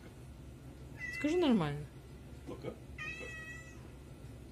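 A cat lets out a loud, drawn-out meow close by, followed by a shorter cry, with a person speaking briefly in between.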